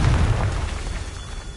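A Confringo spell explodes in Hogwarts Legacy with a deep, loud boom that hits at once and then rumbles away over about a second and a half.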